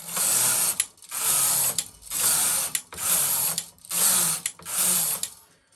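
A Knitmaster ES-302 automatic knitting machine knits a few rows, six loud, even carriage passes with harsh mechanical whirring and ratcheting, each ending in a short pause and clack, no voices.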